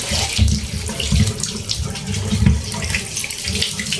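Tap water runs steadily into a sink while dishes are washed, a loud close continuous splash with irregular surges and knocks from items moved under the stream, no talk.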